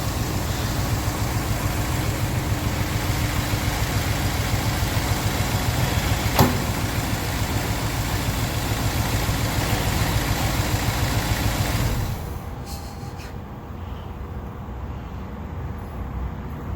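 A rebuilt engine in a 1976 Pontiac Grand Safari wagon idles steadily and loudly close by, a smooth low rumble that drops quieter near the end.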